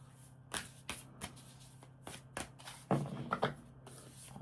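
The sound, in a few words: shuffling tarot cards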